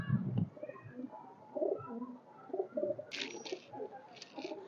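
High-flyer pigeons coo softly in low, rolling murmurs, repeated several times close by, with brief higher chirps mixed in.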